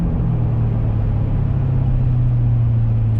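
Inside a C7 Corvette ZR1 on the move, a loud, steady low engine drone hums continuously without any speech.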